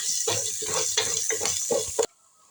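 Green chilli, ginger and curry leaves frying in hot oil for lemon rice, a dense close sizzle with several quick stirring scrapes over about two seconds before it abruptly cuts to near silence.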